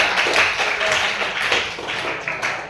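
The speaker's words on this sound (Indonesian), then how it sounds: "tepuk tangan untuk Melisa" Students in a classroom clap for a classmate after her presentation, a dense, even patter of many hands lasting a few seconds at moderate loudness.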